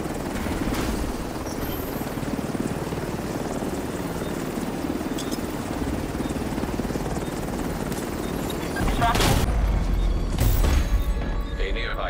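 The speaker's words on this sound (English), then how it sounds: "Helo arrived." In Tom Clancy's The Division 2, an extraction helicopter arrives with a loud, continuous rotor roar and a steady heavy thrum, joined near the end by a couple of sharp bangs.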